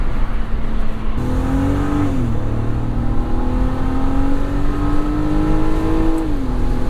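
A 2006 BMW 330Ci E46 accelerates steadily from inside the cabin, its engine note climbing then dropping sharply at each gear change, with two clear shifts over a continuous road rumble.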